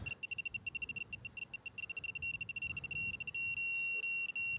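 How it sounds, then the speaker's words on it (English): A RALVICO 1/2-inch digital torque wrench beeps in rapid high-pitched pulses on and off, then settles into a continuous steady tone on reaching torque, over low background noise. "When it gets to torque, it's going to go steady beeping instead of the off and on like that."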